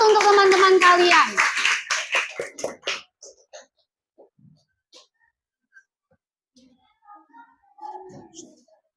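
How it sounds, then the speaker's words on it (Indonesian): Classroom applause for classmates after a group presentation: a burst of clapping from many hands over the first three seconds, fading into scattered claps, with children's voices near the start and a few quiet voices later. "kasih aplaus untuk teman-teman kalian"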